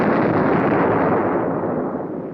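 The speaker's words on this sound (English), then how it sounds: "this napalm attack on a simulated Cuban Missile Guidance Control van" A napalm attack on a simulated Cuban missile guidance control van in Air Force test footage: one loud, sustained roaring blast of fire that rumbles on for a couple of seconds and slowly fades.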